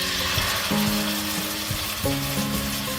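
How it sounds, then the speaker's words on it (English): Steady sizzling and crackling of chicken frying in a pan for a Khmer dish, continuous and close, with a low tonal hum shifting twice in the background. "she starts putting it all into the frying pan"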